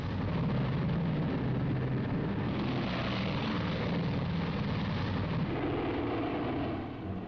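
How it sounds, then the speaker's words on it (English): A World War II B-29 bomber on takeoff: a dense, continuous roar of piston engines and propellers, loud and steady throughout, slightly easing at the very end, with no voices. "The last B-29 is airborne at 1540."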